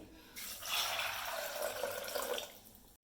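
Water pours into a pressure cooker in a steady, splashy stream for a couple of seconds, starting suddenly and tapering off at the end.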